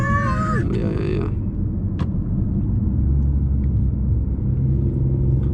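From inside a 2019 BMW i8 Coupé, a deep, steady engine rumble drones loudly throughout. A brief voice is heard at the very start before the engine drone carries on alone.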